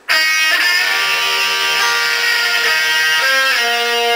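A bright, buzzy electric guitar lick from a solo, a few sustained notes changing in quick succession with a pull-off, loud and close with no talking.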